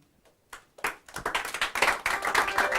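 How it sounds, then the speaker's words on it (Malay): Audience at a district-level 1Malaysia speech contest in Johor Bahru clapping for the first contestant, starting with a few scattered claps and swelling into steady, fairly close applause with no speech. "berikan tepukan kepada peserta pertama kita pertandingan pidato peringkat daerah Johor Bahru"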